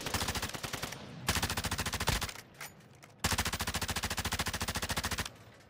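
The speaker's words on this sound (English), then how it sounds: "You trying to shoot that guy way across the map over there?" Video game gunfire: rapid automatic bursts, loud and close, with a short pause between two long sustained volleys and fainter shots in the gap.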